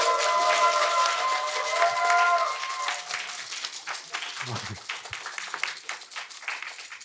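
An audience at a public HRD contest applauds as a presenter is invited to the stage. The clapping starts loud and dense with a musical fanfare underneath, then thins to scattered claps as the music stops.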